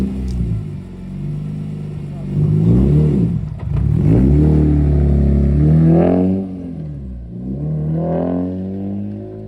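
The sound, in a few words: BMW E30 M3 S54 engine running after new coils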